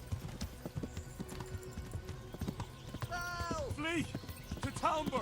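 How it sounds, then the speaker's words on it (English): Horse hooves clop in quick, steady rhythm as a horse runs in the video game Kingdom Come Deliverance, close and clear, ending with whinnying calls while a voice talks over it. "Run in front of my horse, my dude."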